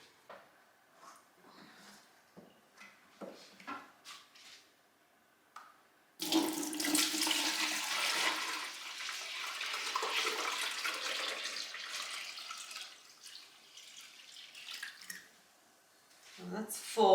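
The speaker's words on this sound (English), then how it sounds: "I'm going to pour this to this jug." Homemade apple cider vinegar with its mother poured into a 4-litre jug, a steady splashing liquid stream that starts abruptly after some quiet handling clatter, then tapers toward the end.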